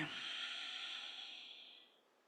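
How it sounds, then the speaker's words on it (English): A single long, deep breath drawn out during a slow yin yoga leg and lower-back stretch, soft and close, fading away over about two seconds with nothing else heard. "Allow a few deep breaths here."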